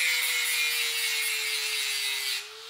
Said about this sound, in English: I'm not putting pressure, I'm just letting the grinder do the work, guiding it over.